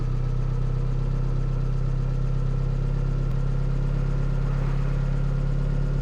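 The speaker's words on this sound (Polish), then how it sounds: "właśnie tu już traktor przygotowany do oprysku" In a farming simulator video game, a tractor set up for crop spraying idles with an unbroken low engine drone and hum that stays level and close throughout.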